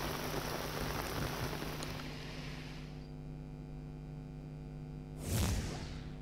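Heavy rain pours down with strong winds in Delhi NCR, a steady broadband hiss across the first few seconds that eases, then a brief swelling gust or whoosh near the end.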